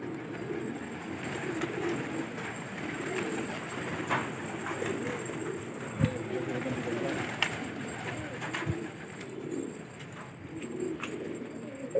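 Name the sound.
pigeons cooing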